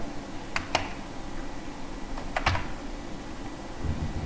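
Keys on a computer keyboard clack in two short bursts of a few quick strokes each, close and crisp, during work on a spreadsheet formula, over a quiet background hum.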